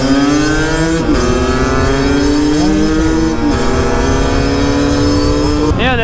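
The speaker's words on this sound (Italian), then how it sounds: "Non va per niente male sta moto." A motorcycle still running its original cylinder revs and shifts through gears while riding, a loud, close engine drone whose pitch climbs and drops with each gear change.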